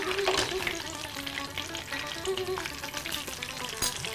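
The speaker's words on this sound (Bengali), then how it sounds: "আদাটাকে ভাজবো।" Ginger paste frying in hot oil with dried red chillies for a Bengali chana dal, a steady dense sizzle close by with a few clinks of a stirring spoon, no talking.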